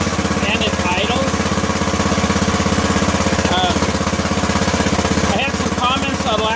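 A worn lawn tractor with a 17-horsepower Intech engine idling close by, a loud steady chugging pulse with a rough rhythmic beat, and someone talking over it.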